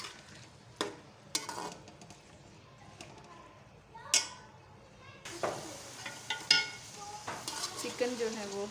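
About a kilo of chicken browning in a pot on low gas, with sharp metallic clanks and scrapes of a spoon against the pot over a quiet background, then a louder, continuous sizzle of frying in the second half.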